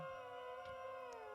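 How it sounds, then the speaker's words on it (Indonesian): A distant, drawn-out howl in a horror story holds one sustained wavering tone that slowly glides lower, with faint eerie overtones and no voices. "terdengar suara raungan yang memanggil, menggema dari dunia nyata"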